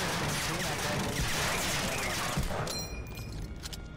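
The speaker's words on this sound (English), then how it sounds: "Sorry, machine gun fire" Machine gun fire in the World War II shooter Medal of Honor: Allied Assault, a dense, loud, continuous rattle of automatic shots with battle din, easing slightly near the end while a voice talks underneath.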